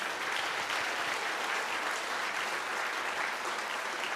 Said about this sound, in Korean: 우리 감사의 박수 한번 하겠습니다